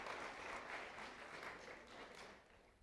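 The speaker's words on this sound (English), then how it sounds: "big round of applause for James as he makes his way to the front" Audience applause at a stress-management talk, a quiet, steady wash of many hands clapping from a seated crowd, distant and even throughout with no speech over it.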